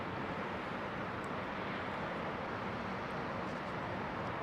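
A C-17 military aircraft flies near Heathrow on a foggy day, a faint, steady distant broadband roar that holds evenly without rising or fading.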